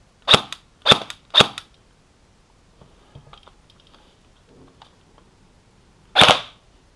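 An airsoft BB gun fitted with an Xcortech X3300W control system fires three sharp, loud shots in quick succession, then faint handling clicks before one more crisp shot, with no speech.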